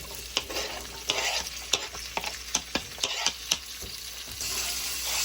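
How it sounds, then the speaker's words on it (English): Vegetables stir-frying in hot oil in a pan for an Asian pepper steak, a steady bright sizzle with repeated sharp scraping clicks of a utensil stirring them, close up and without voices. "Now a little bit more oil and then our vegetables."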